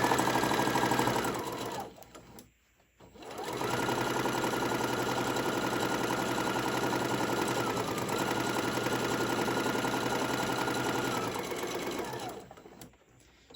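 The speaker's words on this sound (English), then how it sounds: "And then I'm just going to sew it straight down." A sewing machine runs a long straight seam on a summer tote bag, a steady close mechanical whir that stops briefly near the start, resumes for about nine seconds, then halts.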